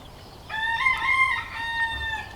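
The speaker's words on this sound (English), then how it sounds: "I think Yeti got too close to the baby chicks." A rooster crows loudly and close by as a dog approaches baby chicks, one long drawn-out call followed by a shorter trailing note over faint outdoor background.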